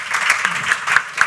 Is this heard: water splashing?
no